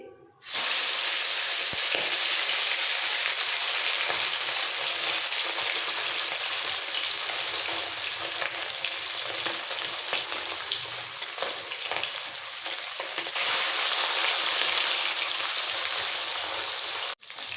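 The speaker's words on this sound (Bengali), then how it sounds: "তেল খুব ভালোভাবে গরম হয়ে গেছে এবার নুন হলুদ দিয়ে মাখানো মাছগুলো ছেড়ে দিচ্ছি" Small fish coated in salt and turmeric dropped into hot mustard oil, setting off a loud, continuous, crackling sizzle that carries on steadily up close with no voices.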